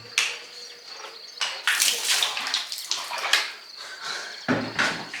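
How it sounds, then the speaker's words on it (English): Water is poured from the top over stonework during the building of a stone fireplace, landing in several separate splashing gushes with short pauses between them, close by and with no talking. "Just pour the water from the top, if you want"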